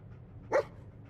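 Dogmeat, the dog in the video game Fallout 4, lets out a single short bark, brief and moderately loud over a quiet low background hum.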